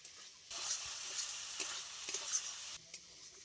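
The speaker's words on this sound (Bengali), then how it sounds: "মশলাটা খুব ভালো করে কষিয়ে নিতে হবে।" Masala spice paste is stirred and fried in a pan: a close, steady sizzle with scraping stirs through the middle, starting and stopping abruptly.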